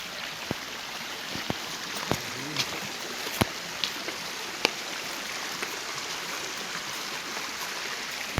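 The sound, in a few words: river stream flowing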